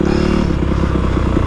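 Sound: motorcycle revving with Rekluse clutch engaging

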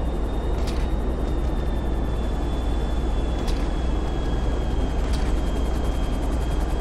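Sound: helicopter flying in the video game GTA V Online

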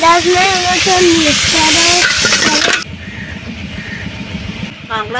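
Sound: crabs frying in mustard oil in a pan

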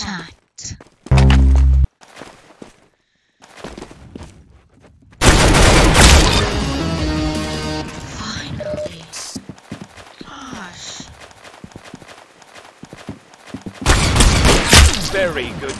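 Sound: gunfire in the Roblox video game Arsenal

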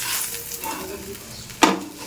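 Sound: frying potato and onion with green chili

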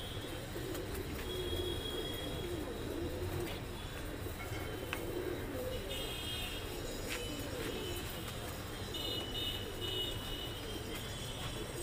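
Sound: Deobandi pigeons cooing in loft

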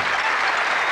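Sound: applause

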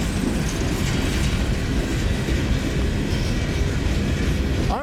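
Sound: freight train with coal cars passing

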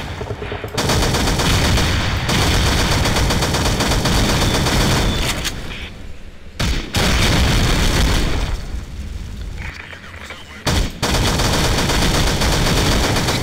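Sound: gunfire in SAS: Zombie Assault 4 video game

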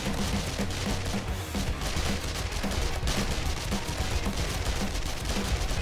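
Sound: SMG submachine gun firing at zombies in a video game

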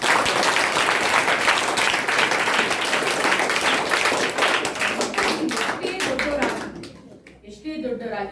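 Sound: schoolchildren applauding teachers

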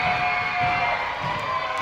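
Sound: wrestling event crowd cheering

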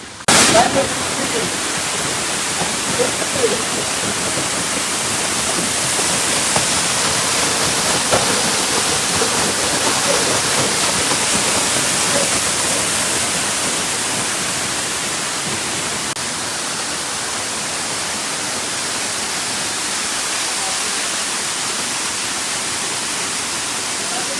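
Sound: Gızlıkent waterfall

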